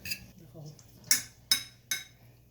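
A spoon clinks against a bowl while ketchup and chili sauce are stirred together, a few sharp metallic taps spaced out over a quiet kitchen background, close and distinct.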